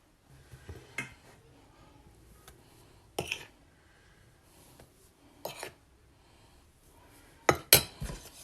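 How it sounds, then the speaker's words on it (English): A spatula taps and scrapes against a bowl while flour is folded into almond cake batter, giving a few sparse clinks and soft knocks over a quiet kitchen background. "I'm going to add a bit at a time and just fold it in."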